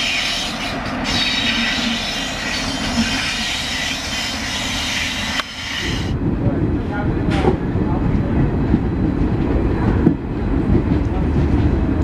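An AC electric locomotive hauls a train on a test run along the Bangalore–Dharmavaram railway section in India, its steady rumble and wheel noise rolling continuously and fairly loud, with a brief sharper change midway.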